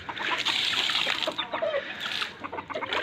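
Chickens cluck and murmur close by in a hot midday coop setting, a busy overlapping chatter with light splashing or scratching sounds mixed in.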